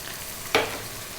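Onions tipped into a hot pan with cumin seeds for a fish coconut curry, bursting into a sudden close sizzle that settles into steady frying.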